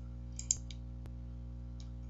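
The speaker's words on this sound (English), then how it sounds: "He has loud mouse clicks." A few sharp, distinct computer mouse clicks, loud and close, spaced out over a steady low electrical hum.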